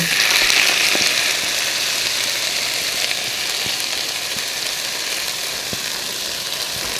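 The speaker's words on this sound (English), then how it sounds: "the pan is pretty hot, so I'm going to just add in the corn" Corn kernels hit a hot pan for Mexican street corn rice, giving a steady, loud broadband sizzle that holds evenly throughout, with faint scattered pops and no talking.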